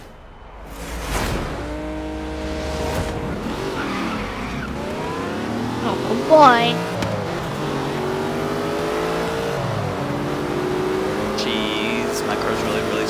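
A racing car engine in Forza Horizon's Hot Wheels expansion revs and shifts through gears with rising and falling whines, plus a brief tire squeal midway. Someone speaks briefly over it.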